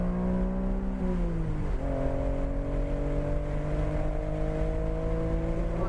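A race car laps the Nelson Ledges circuit, its engine a close, continuous drone that briefly dips in pitch as the driver shifts, then climbs steadily again.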